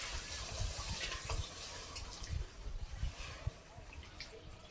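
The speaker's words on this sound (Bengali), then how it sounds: "এবার পরিমাণ মতো জল দিয়ে দিচ্ছি।" Water poured into semolina in a pan, a soft steady splashing and gurgle of liquid, faint and close, easing toward the end.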